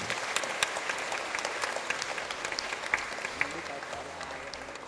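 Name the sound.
congregation applause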